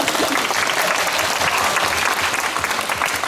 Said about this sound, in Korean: 박수 감사합니다